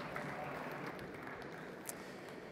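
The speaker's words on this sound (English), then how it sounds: "please help me welcome to the stage Philippe Duluc with a big round of applause" Faint, steady applause from a conference audience welcomes a speaker to the stage, a soft continuous patter heard from a distance.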